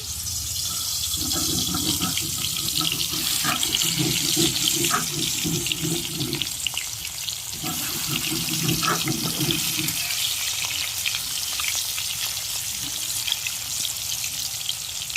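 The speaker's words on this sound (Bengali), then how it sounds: "তেল গরম হয়ে গেছে, মাছ দিয়ে দিচ্ছি।" Hilsa fish pieces frying in hot oil, a loud continuous hiss with crackling pops, briefly dipping twice before sizzling strongly again.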